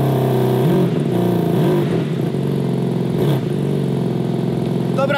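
A nearby car engine revs up several times, its pitch rising and falling in surges over a continuous loud rumble.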